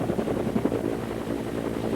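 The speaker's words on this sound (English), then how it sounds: "the helicopter will move back to be able to see a different perspective as we move over the inlet" News helicopter flying over hurricane damage from Hurricane Hugo in 1989, moving over an inlet and creek; a steady, fairly loud rotor drone with a faint pulsing beat holds throughout.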